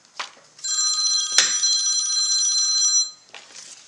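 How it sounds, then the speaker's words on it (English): A telephone rings during a craft session with a bright, trilling electronic bell that sounds for about two and a half seconds. Short rustles of handling come just before and after it. "Sorry about the phone call."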